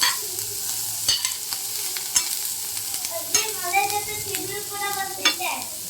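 Chana dal and urad dal fry in hot oil with a bright continuous sizzle, broken by sharp stirring scrapes and clicks of a spoon against the pan at close range.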